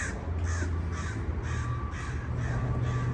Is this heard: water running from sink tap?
no